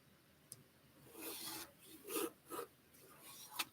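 Quilt fabric pieces being trimmed during late-night sewing, a few short rasping cuts spaced irregularly, soft and close with no talking.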